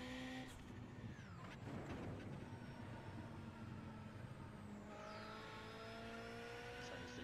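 Engine whine and tire noise from a car drifting at the Nürburgring in a racing simulator game, with rising and falling revs and gliding pitch sweeps, steady and fairly quiet.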